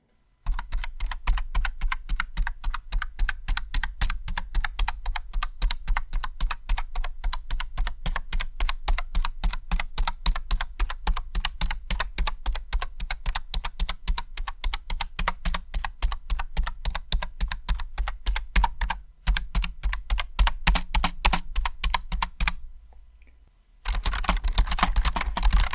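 A PrimeConnect 60% wireless keyboard is typed on in a fast, steady stream of crisp clicky keystrokes, close and alone, pausing briefly near the end before resuming.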